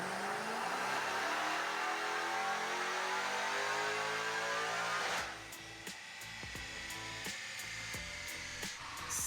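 A Hellcat V8 swapped into a Nissan 350Z screams on a dyno pull, its loud, rising wail climbing steadily before cutting off abruptly, leaving a lower burbling idle with sharp pops and ticks.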